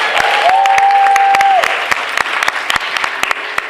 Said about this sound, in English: let's just give her one more round of applause